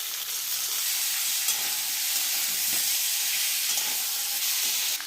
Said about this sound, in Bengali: পেঁয়াজটা ভাজা হয়ে এসছে